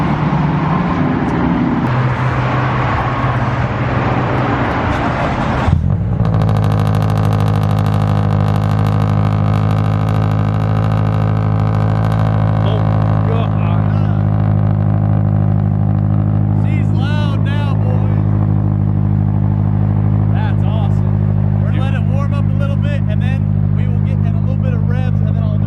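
A Scion FR-S fitted with aftermarket headers and an Invidia N1 exhaust cranks over and settles into a loud, steady, rumbling idle that holds for the rest of the stretch, with people talking over it.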